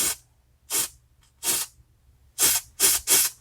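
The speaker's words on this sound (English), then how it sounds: "And then spray that guy with some carb spray." Carb cleaner sprayed onto a lawn mower carburetor in six short, sharp hissing bursts, close by, separated by brief pauses over a low background hum.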